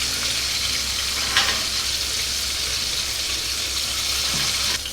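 Chicken pieces frying in hot oil for General Tso's chicken, a steady loud sizzle throughout with occasional soft scrapes as they are moved around.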